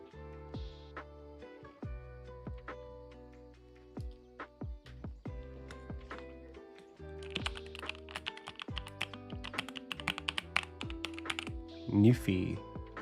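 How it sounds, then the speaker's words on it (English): Rapid keystrokes on a low-profile 75-key mechanical keyboard with brown switches, close and clear, clattering in uneven bursts that grow busier toward the end. "75 key keyboard that I got. This one has the brown switches, and I like it."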